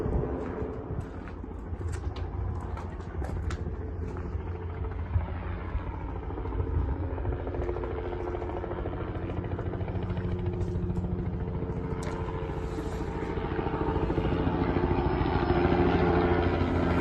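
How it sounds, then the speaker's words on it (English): A fire patrol helicopter circles overhead, its rotor rumble steady and moderately distant, swelling slightly toward the end, with no voices. "There is a helicopter out flying around as well"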